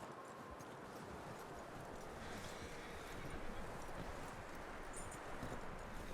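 Horse hooves clip-clop steadily across the whole stretch in Red Dead Redemption 2, a continuous rhythmic trot that sits under a broad wash of background noise, with no talking over it.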